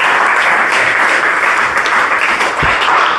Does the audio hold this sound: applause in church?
yes